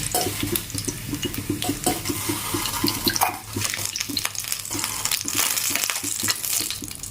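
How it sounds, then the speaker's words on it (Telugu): Small dried fish fry in hot oil for a broad bean curry, giving a steady close sizzle and crackle, with occasional stirring and scraping sounds layered on top. "నత్తలు వేగాలి నత్తలు కొంచెం ఎర్రగా ఆగాలి"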